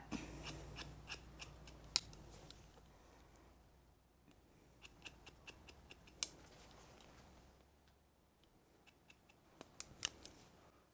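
Scissors snip hair in bursts while layering long hair to keep length and thickness, with clusters of crisp close cuts separated by short pauses and no talking.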